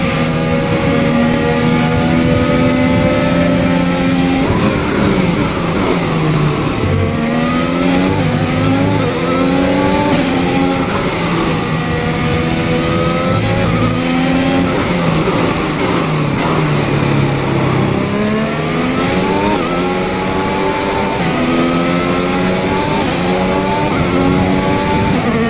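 A race car engine screams loud and close through a racing lap, rising through the gears with repeated shifts and steady high revs, continuous for the whole stretch.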